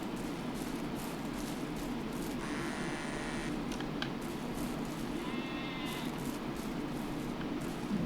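Sheep bleat in the farming video game Ranch Simulator, two short wavering bleats a few seconds apart over a steady low ambient hum, moderately close.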